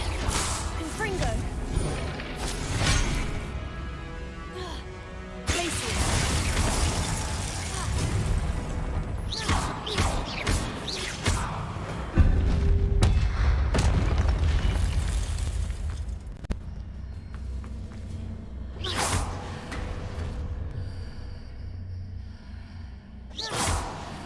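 Confringo, an explosive spell in the Hogwarts Legacy video game, sets off loud booming blasts and whooshing bursts over a dense game soundscape, with a person talking over the action at times.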